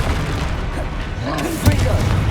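Confringo spell blast from the video game Hogwarts Legacy, a single booming impact about two-thirds of the way in, over continuous game sounds and a spoken voice.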